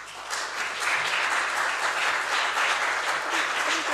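Steady applause from council members in a council chamber, a dense continuous patter of many hands clapping at close range, with a few voices murmuring faintly underneath.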